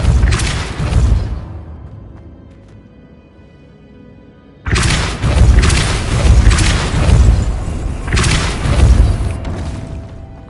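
Spell effects from the Hogwarts Legacy video game, with the Depulso spell among them: loud, booming, whooshing bursts. A short blast is followed by a quieter fading tail, then two more heavy booming surges with no talking.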